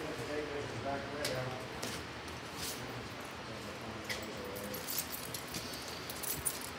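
Keys and tape measures jangle in a fabrication shop with a plasma cutting table, faint metallic clinks scattered under ongoing conversation and shop background noise.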